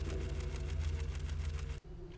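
Machinery humming in an engine room in the stealth game Ghost Thief, a steady low mechanical drone with a fast rhythmic pulse, close and fairly loud, then cutting off abruptly and resuming more quietly.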